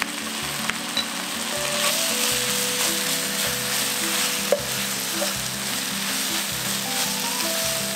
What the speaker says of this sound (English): Add a tablespoon of soy sauce. And our sesame oil. Oyster sauce